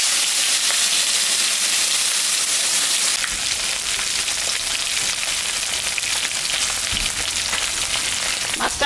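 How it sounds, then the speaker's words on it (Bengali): Singhi fish, salted and coated with turmeric, frying in hot mustard oil, giving a steady, dense sizzle that grows brighter and crackles more sharply partway through, with no voices over it. "মাছটা এখন আমি ভাজে নেব।"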